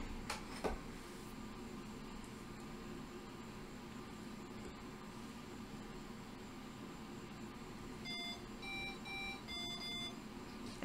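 Small mBot Neo robot plays a quick run of electronic beeps near the end, several short tones in a rising and falling pattern, after a long stretch of faint room hiss.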